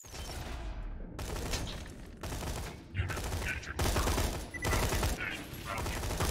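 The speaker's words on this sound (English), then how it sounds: "I haven't hardly used a combat rifle." Combat rifle fire in Borderlands 2 comes in sustained rapid bursts separated by brief pauses, loud and close, with game effects and a little voice mixed underneath.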